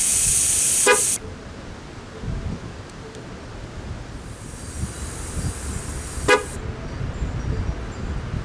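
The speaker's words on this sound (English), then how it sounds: "When the horn sounds, you know that side's trained." A Ford F250 horn gives two short, separate chirps several seconds apart to confirm a tire pressure sensor has been trained. Quiet background fills the gaps between them, and there is no talking.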